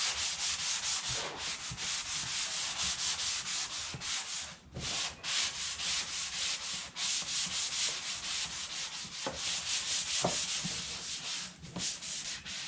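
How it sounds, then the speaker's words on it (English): Continuous rhythmic sanding, a 220-grit sanding sponge rubbing back and forth over wooden kitchen cabinet doors in close, steady strokes with brief pauses. "I'll use a 220 grit sanding sponge and lightly sand down"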